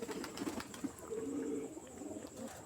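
Pigeons cooing at night in a home loft during feeding, a soft low repeated coo with a steady rhythm, fairly close, amid faint background hum.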